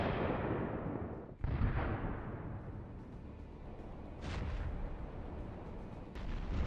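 Several heavy battlefield explosions during tank combat boom one after another, each a sharp blast followed by a rolling, rumbling decay, fairly distant and loud.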